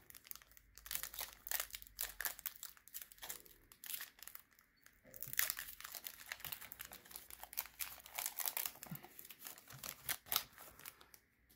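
Pokémon Sword and Shield single-pack blisters being opened: continuous crinkling and tearing of plastic and foil packaging, dense rustling and crackles at close range with no talk.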